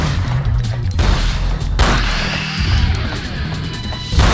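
Gunfire in the Resident Evil Outbreak survival horror game, a loud, dense volley of shots and crashing impacts that runs steadily through the whole stretch with no pause.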